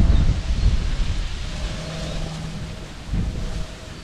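Cold wind blows outdoors on a hillside path, a steady broadband rush with low gusty rumble that swells near the start and again toward the end, no voices present.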